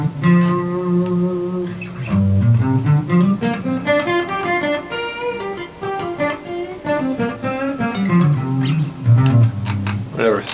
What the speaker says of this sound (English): So if we're starting from G, this is the G pentatonic.